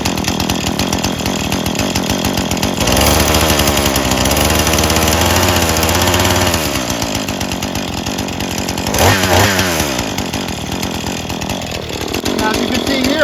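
A Husqvarna 435 16-inch 40cc X-Torq gas chainsaw revs loudly up close, its engine rising and falling through several throttle bursts, with someone talking over it.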